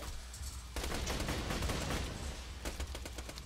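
Dense, continuous gunfire in the video game Borderlands 2, rapid overlapping shots and bursts with a brief pause, then a run of distinct sharp cracks, loud and steady with no voices.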